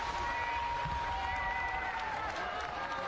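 A crowd roars and cheers continuously at a women's 10000 m points inline speed skating final at the World Games, a dense, sustained wall of voices with some clapping mixed in.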